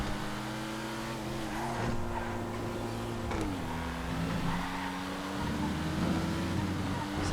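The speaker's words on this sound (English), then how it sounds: "Chasing down the Faggio Super Sport. I mean, it's pretty quick, that Faggio" Faggio Super Sport scooter racing in GTA FiveM, its engine droning at a steady, fairly close pitch that shifts as it revs up and down, with other race engines and a faint tire squeal mixed in.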